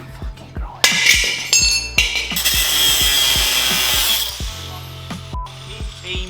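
Angle grinder cutting through the rotten chassis legs of a Ford Sierra Sapphire Cosworth barn find, a loud sustained metallic screech with steady repeated impacts beneath, tailing off near the end.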